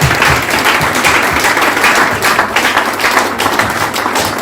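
A church congregation at a Congolese mourning gathering in Paris breaks into loud, sustained applause in tribute, many hands clapping close by with a few thumps mixed in.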